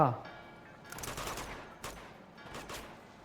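Gunfire in the action video game Uncharted 2: Among Thieves, with a burst of shots followed by two more sharp volleys over a few seconds, loud and crackling.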